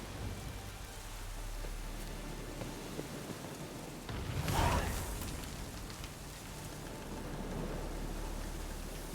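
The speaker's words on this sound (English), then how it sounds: "Looks like rain." Steady rain falls in The Witcher 3 video game, a continuous broadband hiss of rainfall with a louder swell of rushing water or a distant rumble midway, no speech over it.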